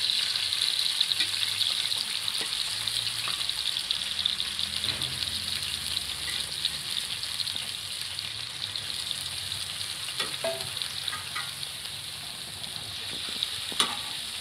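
Chicken boti, coated in onion, garlic and ginger paste, sizzles on a hot tawa griddle with a constant close crackle, while a utensil stirs and scrapes in occasional short knocks. No voices are heard.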